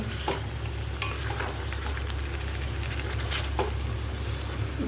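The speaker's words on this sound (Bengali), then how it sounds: "সব কিছু মিলিয়ে যে পেস্টটা করে রেখেছিলাম সেটা দিয়ে ভালো করে নাড়াচাড়া করব" Mutton being stirred with a mixed spice paste in a pan: scraping spoon strokes and a few sharp clinks of utensil on metal over a steady low kitchen hum, with light sizzling, close and moderately loud.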